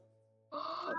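A single drawn-out meow, loud and close, rises over a steady low electronic hum after a moment of near quiet.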